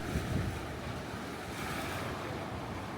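Strong wind buffets the microphone at a seaside distillery on Maui, a steady broadband roar with low gusty rumbles and a surf-like wash throughout, no voices.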